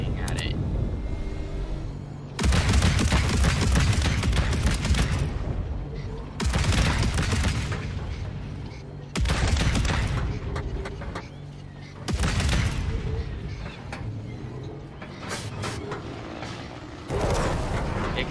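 An anti-aircraft gun in the vehicle-building video game TrailMakers fires in long, loud, dense automatic bursts separated by brief lulls. Engine rumble runs underneath throughout.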